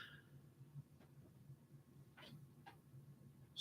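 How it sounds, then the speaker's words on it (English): A house cat in a wild, zoomy mood gives a few short meows, faint and somewhat distant, over a low steady background hum, with a sharper cry at the very end. "my cat is in one of those crazy freaking moods"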